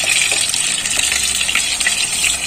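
Pointed gourd pieces fry in oil for a fish-roe curry, giving a loud, even sizzling hiss with faint crackles and no pauses or voices.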